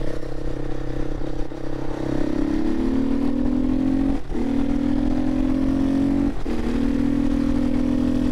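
Herald Brute 500 motorcycle accelerating hard through an overtake, the engine note rising in pitch through the revs with two quick gear changes, loud and close with wind rush, no talking.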